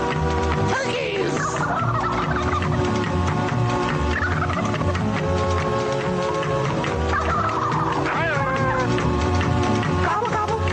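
Turkey gobbling on a radio show, a continuous stretch of warbling calls over a busy background of music or studio sound.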